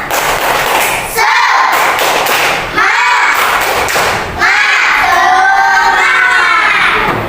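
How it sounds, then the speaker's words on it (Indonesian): Schoolchildren in a classroom perform a spirit clap, three bursts of loud rhythmic group clapping with shouting voices, each separated by a brief pause. "Ya, tepuk semangat."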